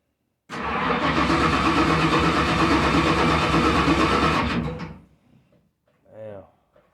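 A Ford Mustang engine cranks hard, trying to start: a loud, dense, continuous churning roar lasting about four seconds, then it cuts off abruptly, followed by quiet and a short voice.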